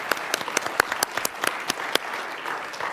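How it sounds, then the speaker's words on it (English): A short burst of applause from a small group at an annual meeting, scattered claps fading out after a few seconds. "give a round of applause"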